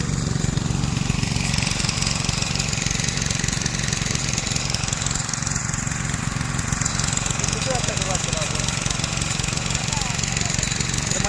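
A water pump engine runs continuously to drain a pond, giving a steady, loud, even chugging throb that never changes pace throughout.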